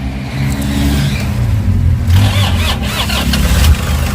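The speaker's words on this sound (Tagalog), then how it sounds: "Start natin, sana umandar na." Engine of a Toyota Hi-Ace Commuter van with a weak battery cranking and starting, a steady low rumble that swells into a louder running idle with a brief rev, heard close up with no talk.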